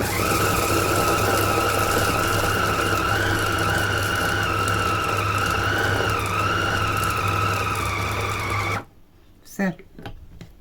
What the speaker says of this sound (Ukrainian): Я вже по звуку відчуваю, коли мій подрібнювач перетворив м'ясо на звичайний фарш.